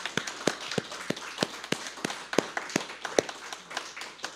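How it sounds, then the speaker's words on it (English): A small audience at a lunchtime concert applauds young musicians with sparse, distinct claps in a loose, uneven rhythm, fairly close and moderately loud. "let's give another round of applause to these wonderful young musicians"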